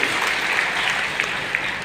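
A short burst of steady audience clapping at the launch of a mobile medical van service, dense and even applause with no pause.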